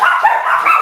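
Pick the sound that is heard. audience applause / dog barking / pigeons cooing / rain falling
dog barking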